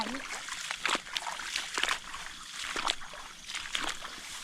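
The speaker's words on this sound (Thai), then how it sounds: "น้ำยังไหล" Water trickles and splashes steadily in a shallow stream where small fish are being trapped, with irregular sloshing bursts and people talking over it throughout.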